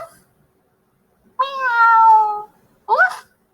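A cat gives two distinct meows, a long drawn-out one followed by a shorter, rising one, clear and close against silence.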